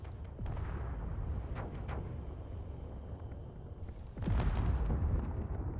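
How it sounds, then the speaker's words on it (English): In a Star Trek Borg encounter video game, a chain-reaction explosion erupts inside a Borg cube: scattered booms crackle through a rumbling background, then a heavier, louder blast bursts near the end. "Chain reaction explosion inside the cube!"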